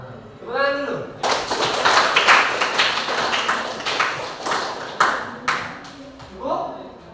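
Students clap in a classroom, a short burst of uneven, fairly close claps that comes in waves and tapers off, with a voice speaking just before and after.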